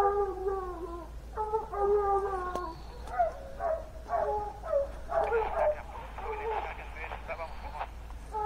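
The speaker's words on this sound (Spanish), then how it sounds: "Voy a ver qué traen esos perros allá." Dogs out in hill country bay and howl in long, wavering drawn-out cries, several overlapping voices rising and falling at middle distance, followed by shorter yelping barks.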